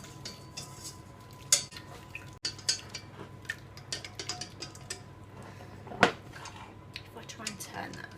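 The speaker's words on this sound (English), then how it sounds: "and then you just keep adding more milk and whisking." A whisk clinking against a pan while milk is gradually stirred into a fish pie sauce, light scattered metallic taps and scrapes at close range over a low hum.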